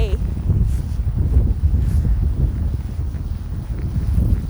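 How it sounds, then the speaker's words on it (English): Strong winter wind in downtown Calgary buffets the microphone with a loud, continuous low roar that swells and dips in gusts, and a voice speaks briefly at the start. "Oh, it's very windy today."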